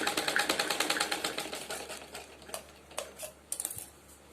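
Close sewing machine stitching a straight seam on a suit, rapid regular needle clatter for the first couple of seconds, then slowing into scattered bursts and clicks as the fabric is handled.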